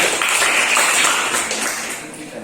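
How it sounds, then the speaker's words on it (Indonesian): Classroom applause from a sixth-grade elementary class, a dense, steady patter of many hands clapping together for a couple of seconds, fading slightly toward the end. "Tepuk tangan untuk kita semua ya"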